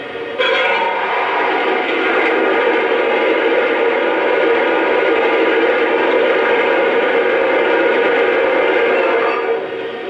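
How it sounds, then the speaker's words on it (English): Water pouring into the tender of a Lionel NYC Pacemaker L-2a Mohawk model locomotive, a steady rushing hiss that holds at an even level for about nine seconds before cutting off, with no voices. "Here's the sound of water being added to the tender."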